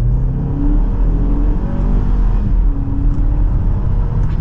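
A 2024 BMW X2 xDrive28i pulls hard from second gear, its engine drone rising steadily inside the cabin, a loud, continuous low rumble with a whirring tone on top and no one speaking.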